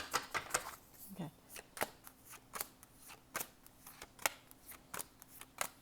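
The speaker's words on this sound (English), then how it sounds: "let's do one more shuffle for Libra" Crisp, rapid riffling snaps of a deck of tarot cards being shuffled, several quick bursts in an irregular rhythm, close and fairly quiet.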